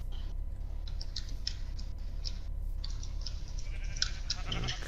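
Sheep in the video game SurvivalCraft bleat in a string of short, high, nasal cries over a steady low rumble, coming close together and fairly near.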